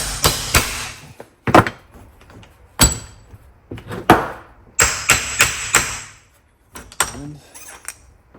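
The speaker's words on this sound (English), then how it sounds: "Put the nut on here, halfway on, 22mm socket. Give her a tap." Sharp metallic taps on a nut sitting halfway onto a shaft, struck through a 22mm socket during John Deere D105 mower deck repair; a series of irregular, close, loud knocks with pauses between.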